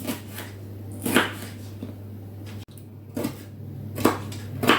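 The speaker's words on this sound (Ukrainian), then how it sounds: "І нам треба його дуже-дуже міленько нарізати до нашого фаршу." A knife chops bell pepper finely on a board, with a handful of distinct, sharp taps spaced about a second apart, close and fairly quiet against a low steady hum, with no talk.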